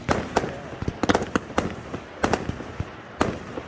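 Street fair fireworks at an end-of-summer event on a reservation go off in a steady string of sharp, loud bangs and crackles, spaced irregularly over a few seconds of outdoor noise.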